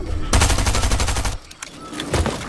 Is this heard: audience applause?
no